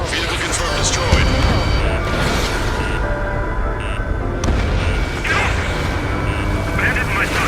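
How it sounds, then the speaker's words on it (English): Missile strikes and explosions in the combat flight game Ace Combat 7 rumble as a dense, continuous roar of booms and jet noise, loud and close, with sharp blasts breaking through the din. "Missile. Vehicle confirmed destroyed."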